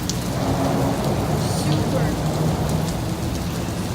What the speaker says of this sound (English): it started raining on us. And it's hard as well.